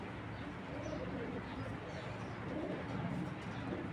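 Domestic pigeons, including racer and dragon-line birds, coo continuously at close range, a low rolling murmur of overlapping calls that fills the whole stretch.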